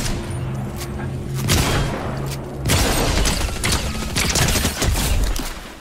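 Bursts of Fortnite gunfire crackle through a firefight, with mechanical clatter and dense rapid shots that come in waves, loud and close, pausing briefly before resuming.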